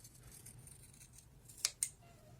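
Scissors snip fabric at the corners while sewing a basket, two sharp quick cuts close by over a quiet background hum.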